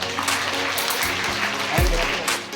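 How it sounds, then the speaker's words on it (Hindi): Steady clapping from a crowd at a board exam results announcement fills the clip, with a brief low thump partway through. "जोरदार तालियां।"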